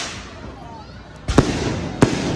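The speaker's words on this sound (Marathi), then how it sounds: "म्हणजे हे सगळे फटाके जे वाजतात पैसा वसूल नाही।" Two sharp, loud firecracker bangs about a second apart, close by, over a rumbling noisy background with crowd sounds at a Home Minister game event in Worli.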